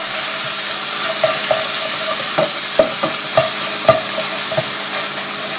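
Seared tuna mixture stirred in a hot frying pan, loud continuous sizzle with a few sharp utensil knocks against the pan, no voices.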